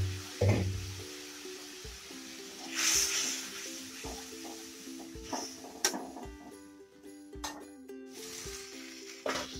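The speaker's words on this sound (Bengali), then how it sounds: "জল দিয়ে মশলাটা ভালো করে কষিয়ে নেব" A spice paste of chilli, cumin and coriander powder with a little water sizzles and sputters in a pan for a fish curry. The bubbling is soft and steady, with occasional louder spatters and utensil scrapes.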